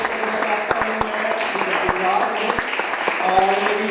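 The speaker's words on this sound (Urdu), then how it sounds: "بھرپور تالیاں" An audience claps for children, teachers and parents at a Sunday school advent service in a church, steady dense applause with sharp individual claps standing out throughout.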